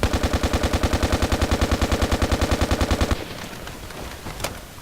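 Rapid, evenly spaced full-auto rifle bursts from a nerfed L85A2 or FAMAS in Battlefield Play4Free, fired at long range; a steady loud rattle for about three seconds, then it stops and leaves faint background noise.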